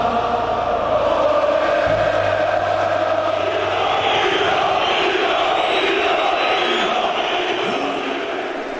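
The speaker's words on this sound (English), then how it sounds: "Inside the ground, the crowd were coming to the boil." A dense crowd of Croatian Torcida ultras roars and chants inside a football ground, a loud, sustained wall of massed voices that stays steady throughout before easing slightly at the end.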